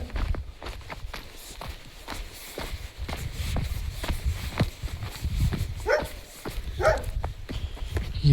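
A dog near a temple guesthouse at a fair barks intermittently, close and fairly loud, over shuffling footsteps and background crowd noise.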